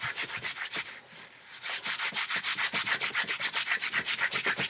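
Steel wool rubbing rust off a chrome motorcycle exhaust pipe near the clamp, a steady close scratchy back-and-forth scrubbing in quick regular strokes after a brief pause, loud and alone.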